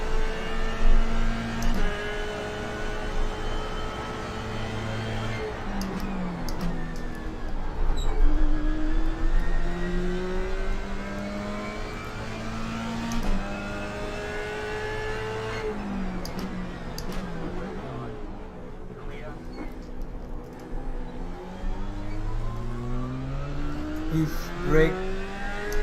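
Race car engine in the iRacing sim, revving and shifting through gears with rising and falling pitch sweeps, easing off and building again across the run, loud and continuous.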